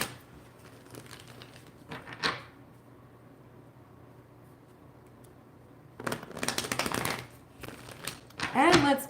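Tarot cards being shuffled in short riffling bursts, a quick one early on and longer, louder flurries later, separated by a quiet pause, fairly close.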